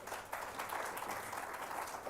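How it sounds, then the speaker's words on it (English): Audience applause at a conference on Kenya as a digital and BPO hub, a steady, even wash of many hands clapping, fairly distant and moderately loud, with no talking over it. "Applause."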